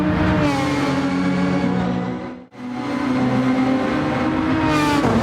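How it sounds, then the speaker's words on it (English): A race car in a racing game on the Red Bull Ring track, slowing after running out of fuel: a loud engine drone that cuts out briefly, then returns at a steady pitch, close and alone. "his car slows down on the track"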